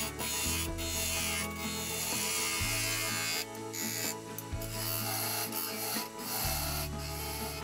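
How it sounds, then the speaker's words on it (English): Skew chisel rolling a shoulder on a spinning wood lathe, a steady scraping hiss with a low motor hum that shifts in pitch several times as the cut changes, close and continuous. "we're going to use the skew then to roll the shoulder."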